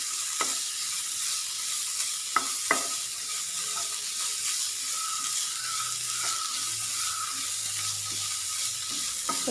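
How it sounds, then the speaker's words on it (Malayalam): Crushed ginger and garlic sauté in hot oil in a pan with onion, giving a steady close sizzle broken by a few sharp clicks of a spoon or spatula against the pan. "അതും കൂടെ ചേർത്തിട്ട് വഴറ്റി കൊടുക്കാം."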